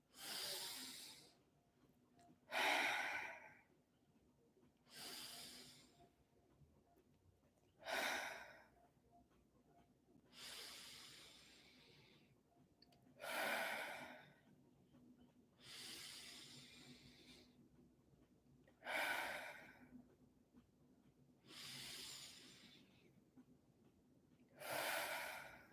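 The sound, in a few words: deep breathing through the nose, then exhaling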